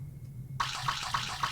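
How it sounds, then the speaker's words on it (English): Footsteps splash through shallow water in the video game soup0.9, starting abruptly as a steady wash of water with rhythmic sloshing steps about every third of a second, close and moderately loud, with no speech. "we're walking through water in a lot of these rooms"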